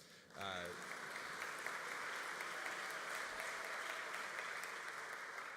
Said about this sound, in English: Year to date, you can applaud for them